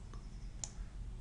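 A single sharp key click on a computer keyboard during a Ctrl Z undo in chart software, one brief tap over a low steady room hum.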